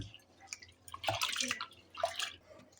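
Green gram lentils are washed in water, giving soft sloshing, splashing and dripping sounds in a few irregular bursts, close and fairly quiet, with no voices.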